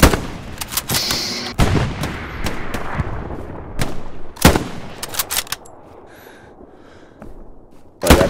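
Gunfire in the WWII shooter Hell Let Loose, with machine gun suppressing fire: a run of sharp, loud shots with irregular spacing and bursts over the first five seconds, then quieter distant shots, then one close crack at the end.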